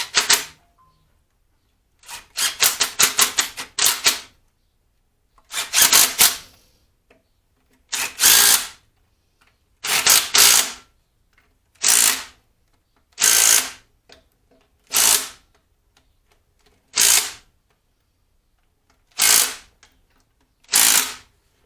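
Bolts being torqued down by feel on the final drive of a D2 dozer: a series of short bursts of ratcheting and tightening, near and fairly loud, separated by quiet gaps, with no talk.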